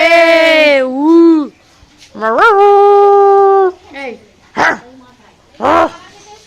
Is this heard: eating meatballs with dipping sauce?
no